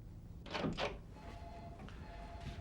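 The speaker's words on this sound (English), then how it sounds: "You shut the door." A door is pushed shut with a couple of soft thuds close by, followed by a quiet room.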